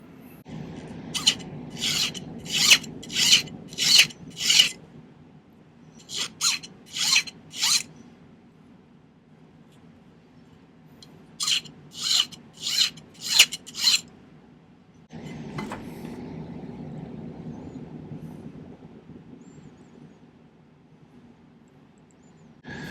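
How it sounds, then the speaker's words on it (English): A hand file rasps across solder on a silver cage pendant in a series of quick, crisp strokes grouped in bursts of four to six, close and distinct, with quiet pauses between the groups. "maybe we can file it a little bit"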